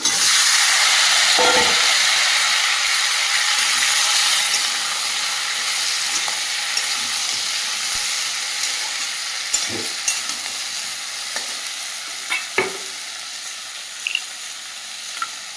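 Sliced ridge gourd tossed into a pan of reddish fried potatoes, giving a steady loud sizzle and hiss throughout, with a few scraping stirs and soft clunks toward the end and no talking.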